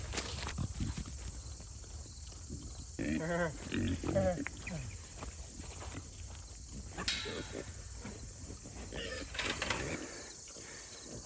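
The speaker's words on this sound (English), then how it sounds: "Pig." Pigs grunting and squealing in short bursts on a pasture field as they are herded back in, with shuffling footsteps and people talking over the animals.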